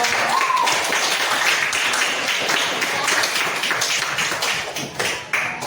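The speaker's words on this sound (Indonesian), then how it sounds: "Tepuk tangan juga dong." Steady classroom applause for a student group fills the room, a dense patter of many hands clapping nearby without a break.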